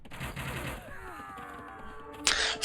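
Gunfire in a real-time strategy game, a single volley cutting down five units at once, with rhythmic shots early on, tonal game effects and a loud burst near the end.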